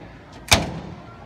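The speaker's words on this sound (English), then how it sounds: "and then close the door." At a Home Depot display, a washing machine door shuts with a single sharp, close thud and brief rattle against quiet store ambience.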